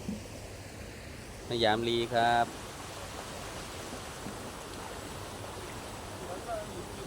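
Flowing water rushes as a steady broadband wash through the whole stretch, with a brief burst of voices over it near the start.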